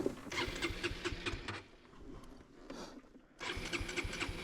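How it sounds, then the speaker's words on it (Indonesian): A motorcycle that has just fallen over struggles to start: a rough, stuttering engine burst, a quieter lull, then the engine sputters loudly again nearby. "pas mau di starter ternyata agak lama tuh nyalanya"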